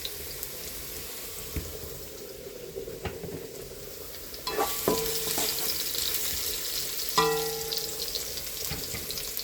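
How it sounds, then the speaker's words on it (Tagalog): Ingredients for papaitan are stirred in a hot pan, with a steady sizzle and frying crackle throughout that grows louder about halfway through, plus occasional utensil clinks and scrapes against the pan. "Nagluto tayo ng papaitan. Gisa muna natin to."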